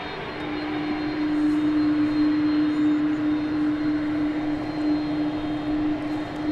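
An airliner on flight 767 to Louisville takes off from DFW Airport at night, a steady distant jet roar with a sustained engine hum, moderately faint and unbroken, with no talking.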